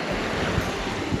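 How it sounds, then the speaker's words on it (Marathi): Ocean surf at the shore near Arnala fort outside Virar, heard as a brief, loud wash of breaking waves mixed with heavy wind buffeting the microphone. "तुमच्या लाटा येत आहेत एकदम एक नंबर आहेत."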